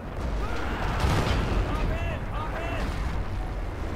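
Artillery in Forgotten Hope 2 booming in a dense multiplayer battle, heavy rumbling blasts rolling together over a few seconds, with faint whistling tones and someone speaking over the din.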